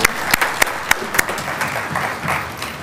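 Audience applause at a Punjabi writers' association gathering, a short burst of scattered clapping at moderate level with a few sharp distinct claps standing out before it thins.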